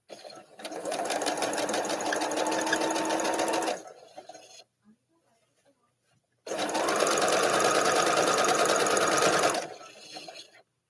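Home sewing machine stitching a quilt block in two steady, fast runs of several seconds each, separated by a quiet pause, heard close and loud.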